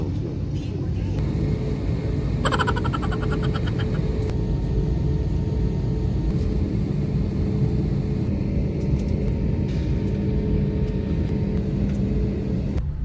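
Inside an Asiana Airlines airplane cabin, a loud, constant low rumble of engines and airflow with faint chimes and announcement tones over it, and voices talking now and then.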